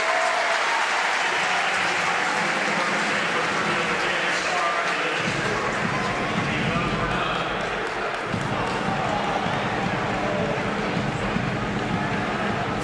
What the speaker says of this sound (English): tell by the reaction of the crowd that Bagley is up.